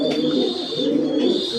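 Jacobin pigeon gives a continuous low cooing, close and fairly loud, with a thin high steady tone running alongside and no talking.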